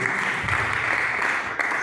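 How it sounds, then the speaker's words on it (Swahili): A church congregation claps in a loud, dense, continuous burst of applause filling the hall, with no pause in the short stretch. "Tupige Yesu makofi mazuri"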